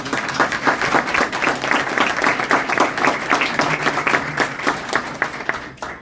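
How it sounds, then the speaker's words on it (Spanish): Applause from an audience at a Spanish-language political talk, many hands clapping steadily and densely for about six seconds before tapering off at the end. "un aplauso para cada uno de ustedes"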